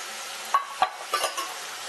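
Ground spices frying in a pan with a little water, a soft steady sizzle broken by a few light scrapes and taps of a spoon stirring, brief and quiet.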